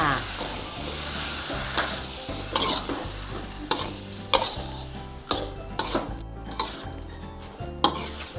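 Shrimp stir-fried with chili salt and sliced scallions sizzles steadily in a pan, with a spatula scraping and clattering against the metal in a regular rhythm of repeated strokes, close and fairly loud.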